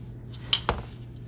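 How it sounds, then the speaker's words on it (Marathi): Grated coconut, poppy seeds and sesame seeds being mixed in a pan for dink laddoos, two soft clinks of a spoon against the pan over a quiet background, close and faint. "आता आपल्याला हे सगळं छान मिक्स करायचं आहे"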